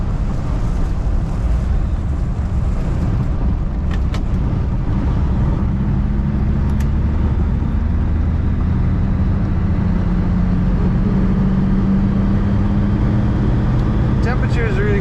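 A 1948 Lincoln Continental V12 convertible cruising at about 30 mph, a steady low engine rumble with road and wind noise, continuous and loud, with someone talking over it.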